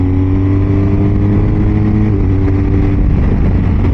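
A BMW R1250 GSA motorcycle engine rolls off the throttle on the road, a loud continuous engine drone with steady harmonics that soften slightly toward the end, mixed with heavy wind rumble.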